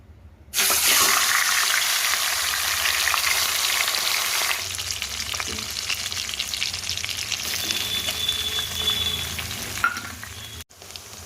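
Onions fry in a pan on a gas stove, a loud, steady sizzle that starts abruptly and continues for about ten seconds, with occasional stirring and a brief dip partway through.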